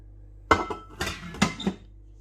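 Stainless steel inner pot of an Instant Pot Duo 5.7-litre pressure cooker clanks and clinks several times as it is handled, with close, sharp metallic knocks and then quiet.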